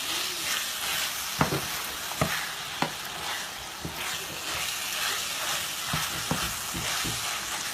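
Mince and frozen vegetables frying together in a pan, a continuous soft sizzle and hiss with scattered sharp pops and crackles throughout.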